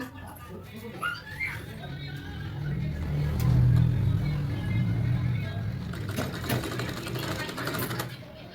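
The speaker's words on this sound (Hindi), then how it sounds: "अब हम इसकी सिलाई कर देंगे।" A sewing machine stitches blouse fabric, running as a steady mid-level mechanical whir with a low hum. It speeds up slightly partway through, and a voice speaks over it.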